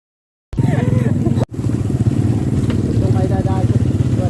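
A motorcycle engine runs steadily and loudly up close, cutting out for a moment before resuming, with people talking over it.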